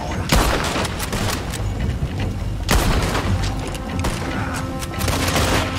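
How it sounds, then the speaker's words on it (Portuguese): A gunshot fired into the air in Red Dead Redemption 2, with sharp loud cracks near the start and again midway, each followed by ringing echo, and more scattered shots and clatter between them. "Atirei no ar."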